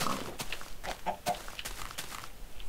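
Minecraft chickens clucking in a video game, short scattered clucks and squawks at moderate volume over a faint background, no one speaking.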